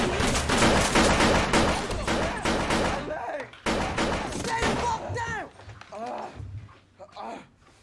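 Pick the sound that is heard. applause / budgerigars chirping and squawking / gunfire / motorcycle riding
gunfire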